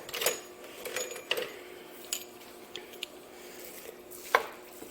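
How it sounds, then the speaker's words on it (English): Metal spoon scraping and breaking up ground meat in a pot on the stove for homemade lasagna pasta sauce, giving irregular close clinks and taps over a soft sizzling background. "Go ahead and get that all ground up here in the pot."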